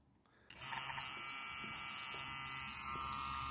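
Bearing-type Chinese tattoo machine, a Dragonhawk Extreme or Raven model, switching on and then running as a steady, even electric buzz close by for a few seconds.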